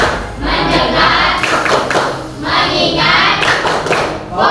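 Rhythmic group clapping from a classroom of students doing a focus clap, a series of loud, close bursts of hand claps with chanting voices mixed in.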